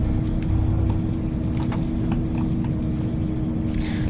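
Steady low engine rumble of a car idling and creeping along as it pulls in to park up, near and continuous with no talk, a faint higher whine rising near the end.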